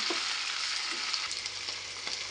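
Spiced badnekai palya mixture sizzling in a hot pan as it is stirred, a dense continuous frying hiss with a few soft spoon scrapes, close and steady.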